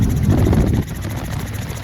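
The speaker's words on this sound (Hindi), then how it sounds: "हम जैसे ही हेलीकॉप्टर का इंजन स्टार्ट होता है" Helicopter engine and rotors during lift-off, a loud close throbbing roar that drops sharply in level partway through, then continues as a steadier hum.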